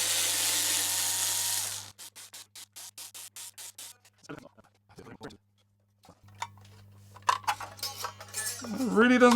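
Quick run of sharp ratcheting clicks from a backup screwdriver working a stubborn screw on a 2020 Fender Player Duo-Sonic guitar, close and loud, then scattered taps and short scrapes, with a voice joining near the end.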